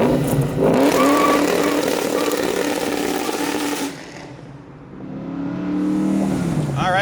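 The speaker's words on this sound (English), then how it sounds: "we're taking the 93 Mustang out for a test drive" A 1993 Ford Mustang Foxbody engine revs loudly and close by on a test drive, holding a strong roar for several seconds, easing off briefly, then climbing again as it accelerates.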